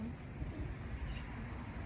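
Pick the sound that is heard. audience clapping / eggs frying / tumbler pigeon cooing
tumbler pigeon cooing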